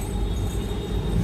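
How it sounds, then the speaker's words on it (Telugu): A train rolls past outdoors, a continuous heavy low rumble of wheels on rails with a faint steady whine above it. "ట్రైన్ కూడా వచ్చింది అప్పుడే"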